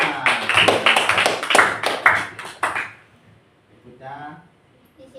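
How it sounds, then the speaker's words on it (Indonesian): A group of students at a classroom presentation claps together in a quick, loud burst lasting about three seconds, then stops; a brief voice follows. "Ya, tepuk tangan."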